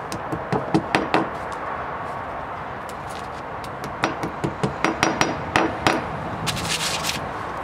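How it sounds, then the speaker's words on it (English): A hammer knocks a plastic wall plug into a drilled hole in a wall. The taps are sharp and close, a few scattered at first, then a quicker run of knocks, over quiet room noise. "So I'm now going to knock the roll plug into the hole."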